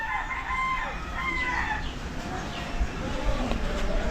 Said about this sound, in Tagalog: Saka dito merong manok